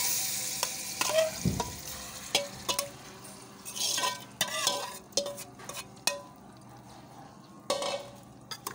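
Ingredients tipped into hot oil in a karahi over coals hiss and sizzle, with a few stirring scrapes and clinks of a utensil against the pan, close and moderately loud.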